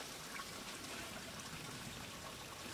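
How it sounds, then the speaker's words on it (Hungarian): A small woodland brook at Mórágy trickling steadily, a faint continuous babble of water heard alone without talk. "itt vagyunk egy kis patakocskánál,"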